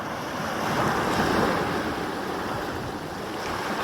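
Ocean surf rolls onto the shore with gusting wind buffeting the microphone, a loud, continuous wash that swells and eases slightly, no voices.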